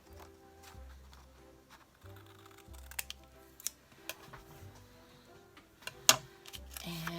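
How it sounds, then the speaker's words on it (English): Quiet, close snips of scissors trimming the corners off a fabric tag shape, a scattering of small clicks and cuts over low room noise. "I'm just going to cut off these corners"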